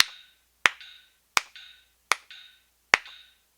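Hands clapping in time with a metronome click, five sharp evenly spaced claps about three-quarters of a second apart, each followed by a short ringing click, close and clear with no talk.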